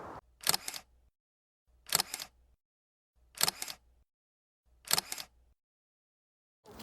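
Four evenly spaced camera shutter clicks from selfies taken in a woodland, each a crisp mechanical snap about every second and a half, with silence between and no talk.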